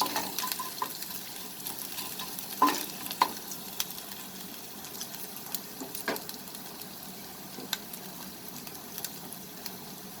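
Chopped ginger and garlic frying for onion chicken in a pan, a faint steady sizzle broken by light stirring clicks and scrapes, with no voices.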